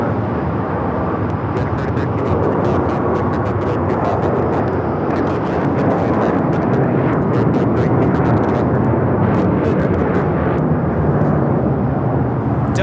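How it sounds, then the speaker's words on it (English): A Delta Airbus A350-900 thunders down the runway on takeoff at Los Angeles airport, a loud, sustained roar of jet engines with broad rumbling noise that holds steady throughout. "Delta Airlines Flight 39 taking off to Shanghai on the A350-900."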